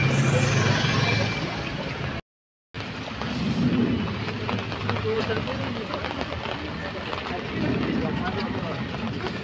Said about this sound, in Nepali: पानी परेको अवस्था